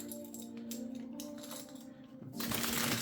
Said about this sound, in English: There's not much I can do about the rustling bag.